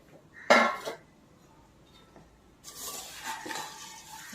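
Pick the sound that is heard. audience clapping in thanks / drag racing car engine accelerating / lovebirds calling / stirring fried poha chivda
stirring fried poha chivda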